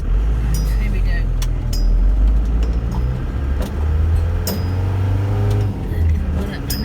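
A car engine labours uphill on a road in the Lake District, revving and dropping as the driver shifts down from fourth to third gear, a steady close drone with talk over it.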